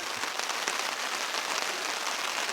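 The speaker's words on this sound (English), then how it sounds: "And then this rain started." Rain falls steadily at a canoe campsite, a dense, even patter of drops on surfaces filling the air with continuous hiss and no voices.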